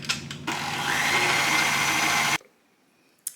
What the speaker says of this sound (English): Now we are just going to whisk all of the dry ingredients together